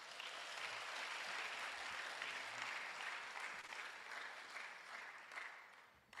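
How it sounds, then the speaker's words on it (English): A crowd claps together at a physician assistants' induction ceremony in Ghana, a dense, sustained round of applause with no talk that tapers off near the end. "Let's clap hands for ourselves."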